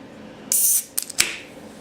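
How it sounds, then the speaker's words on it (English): A can of Barq's root beer pops open with a sharp crack and a brief hiss of escaping gas, followed by a couple of small clicks, close and otherwise quiet. "Always love that sound of popping open a can."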